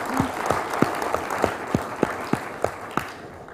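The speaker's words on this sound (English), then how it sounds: "just give them a round of applause" Applause from a dinner audience at a supply chain business summit, a broad wash of clapping with a few sharp claps standing out, steady for several seconds and gradually tapering.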